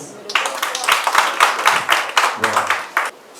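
Audience claps for Daouda Doumbia at a SACTA event, a run of fairly loud, uneven hand claps in bursts close by, with a voice speaking over parts of it.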